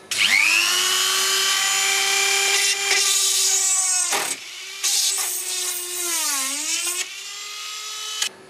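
A handheld Dremel-type rotary tool drills out a rivet while a Dynacord Rex guitar amplifier is being restored. Its high, strained whine sags and recovers under load and cuts out briefly several times.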